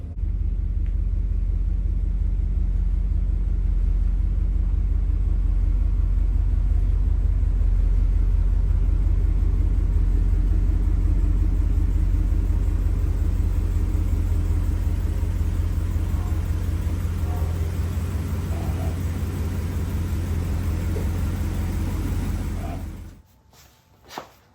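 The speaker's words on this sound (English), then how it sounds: "The car's on the road." A 1978 Mercedes-Benz 450 SL driving on the road, its engine producing a loud, steady low rumble with constant road noise that holds for over twenty seconds before cutting off abruptly.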